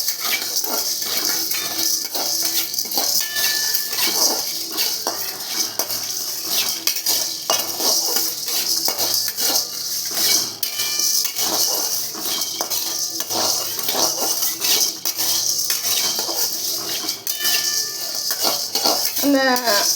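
Urad dal and chana dal are dry-roasted in a pan for idli podi, with a spoon scraping and clinking against the metal in busy, continuous stirring strokes up close.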